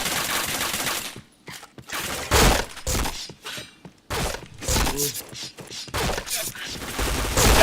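A flashbang grenade goes off in a video game amid sharp bursts of in-game gunfire, with several loud broadband blasts separated by brief quiet gaps.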